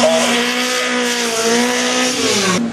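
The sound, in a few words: rally cars on a demonstration run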